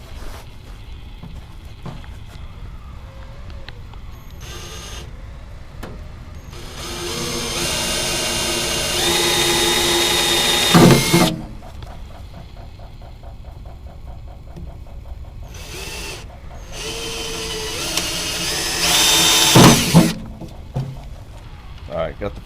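A power drill fitted with a 5/16 bit bores holes during a custom shelf install, whining in two separate bursts of several seconds each, with someone speaking between them.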